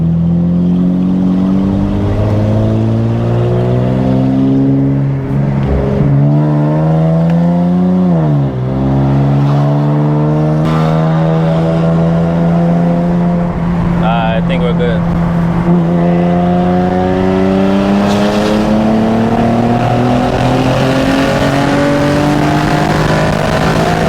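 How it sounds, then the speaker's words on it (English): An Infiniti Q60 on Z1 turbos, tuned to around 740 wheel horsepower on a stock motor, accelerates hard through rising, whining gear pulls with turbo whoosh, loud and close from inside the car, with occasional talk over it. "Oh my God, the way these turbos sound."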